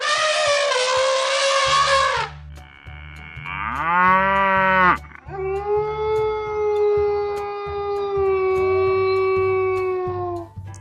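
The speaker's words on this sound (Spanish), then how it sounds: "otros animales como las vacas al mugir" Cows moo in a series of long, drawn-out calls, loud and close, one low bellow following another with a few short gaps between them.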